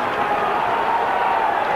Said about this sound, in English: The Salford crowd roaring them on